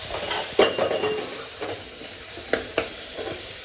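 Aloo methi sabzi sizzling as it fries in a pan, stirred with a spoon, scrapes and clinks against the metal landing at irregular moments over a steady, close frying hiss.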